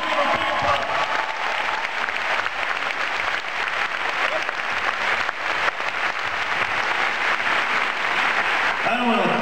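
Concert audience at a show with an orchestra on stage bursts into loud, sustained applause and crowd noise, a thick continuous roar of clapping that barely dips over nine seconds.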